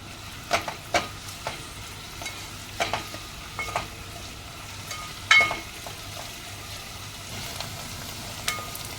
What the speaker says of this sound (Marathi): बारीक चिरलेला जो कांदा आहे तो टाकूया, ते व्यवस्थित परतून घेऊया आपण